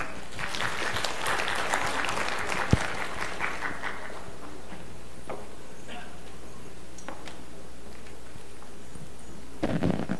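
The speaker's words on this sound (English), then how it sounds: "may we have a round of applause, please, for Miss Tal de Guzman." An audience at a forum on weaving and traditional design claps in a sustained round of applause that fades after a few seconds into scattered claps and room noise, then swells briefly again at the end.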